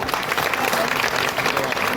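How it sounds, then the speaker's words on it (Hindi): A crowd at a political rally in Mathura breaks into loud, sustained applause, continuous dense clapping filling the whole moment with voices mixed in. "जोरदार तालियां इनके लिए"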